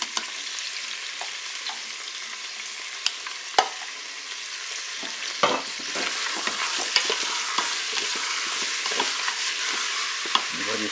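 Chicken thighs and onions browning in a Cookeo multicooker sizzle loudly and continuously, with occasional sharp clicks and scraping as the pieces are stirred and turned.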